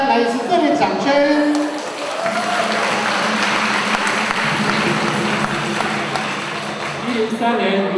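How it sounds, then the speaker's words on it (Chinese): A crowd at a karaoke singing contest applauds in a dense, steady wash of clapping, with a voice talking over it at the start and end. "掌声鼓励"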